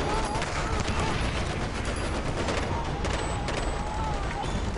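Machine gun fire from a fortress parapet rattles in dense, rapid bursts during a Taliban prisoner uprising, loud and continuous with scattered gunshots and rumbling explosions, under a narrator's voice.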